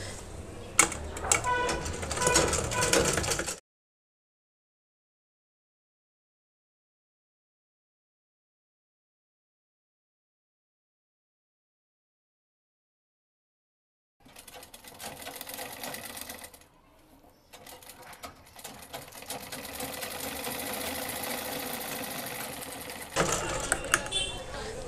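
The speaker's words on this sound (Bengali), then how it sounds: "এই পর্যন্তই আমি সেলাইটা করব। আর এই সেলাইটা আমি ডাবলভাবে দিয়ে দিব।" Sewing machine running a double line of stitching on a salwar panel, a fast mechanical whirr in two bursts split by a long silence, loud and close.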